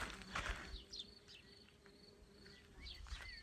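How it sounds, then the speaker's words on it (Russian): A small insect buzzes faintly in passing over quiet outdoor background noise in a village vegetable garden, with a few thin chirps in the distance. "Кто-то вокруг меня летает, жужжит."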